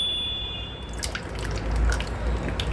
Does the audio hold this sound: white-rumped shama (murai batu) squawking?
no